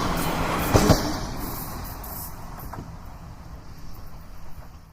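Subway train running in a city subway, a steady low rumble with a soft whine and a couple of brief clunks near the start, fairly quiet and continuous throughout.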